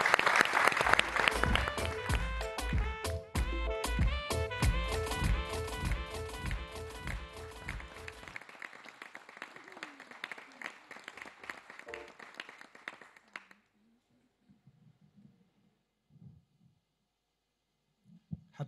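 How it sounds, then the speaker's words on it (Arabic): A studio audience on a live variety show claps loudly and densely at first. The applause thins and fades over several seconds into near silence, with a few scattered claps at the end. "تصفيقة كبيرة"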